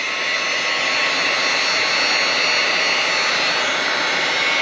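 A loud, steady blowing roar of a hair dryer shrinking heat-shrink tubing on a motorcycle turn signal install, running continuously at close range, unchanging throughout.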